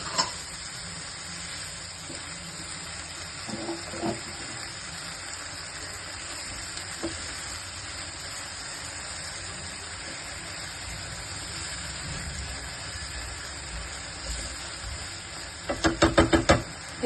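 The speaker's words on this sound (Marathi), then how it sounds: "कॅप्सिकम आणि टोमॅटोची प्युरी हे आपण सगळं आता छान असं मिक्स करून घेऊया." Capsicum and tomato puree being stirred in a pan sizzles steadily as it fries, with a few soft knocks of the spoon against the pan and a louder burst of scraping near the end.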